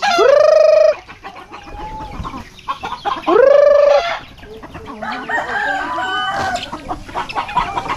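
Roosters crow loudly twice, at the start and about three seconds in, among a busy farmyard flock clucking and calling while chickens and chicks are fed.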